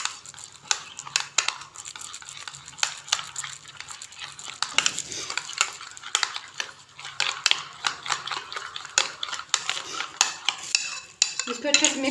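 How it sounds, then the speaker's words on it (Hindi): A spoon clicks and scrapes in a bowl as a cucumber salad is stirred with lemon juice, a quick irregular series of light taps and rubs, close and fairly quiet, no talk. "ये लेमन जूस डाल दिए, इसको हम अच्छे से कर लेंगे मिक्स।"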